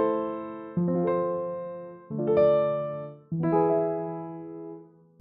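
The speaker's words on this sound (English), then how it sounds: "this really tiny, small, regular piano chord progression sounding like this" Small, plain piano chord progression: three sustained chords struck in turn, each ringing and slowly decaying before the next, clean and alone with no voices.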